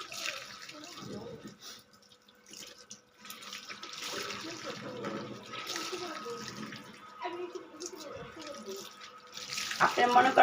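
Tap water runs while a dressing table is washed, a steady splashing flow with brief gaps and clinks, getting louder toward the end, with someone talking over parts of it.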